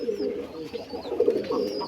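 Pigeons kept for sale give soft, low, repeated coos close by, a throaty murmur running through the whole moment over a light background.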